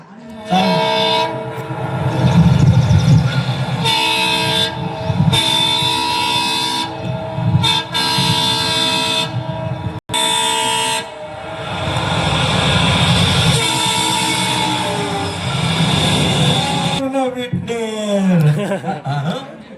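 An express train rumbles past with a loud horn blast near the end, while people talk over the steady clatter.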